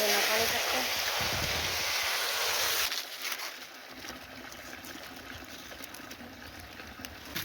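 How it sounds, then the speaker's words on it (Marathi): Water is poured onto a freshly planted teak sapling in a village plot, a steady splashing rush that softens after a few seconds into a quieter trickle. "आता याला पाणी टाकते."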